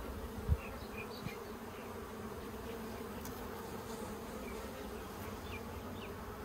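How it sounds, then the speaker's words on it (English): Honey bees hum densely over hive frames during a split to stop swarming, a continuous close buzzing swarm with individual bees droning past, and a soft bump early on, no voices. "there's a lot of bees covering them"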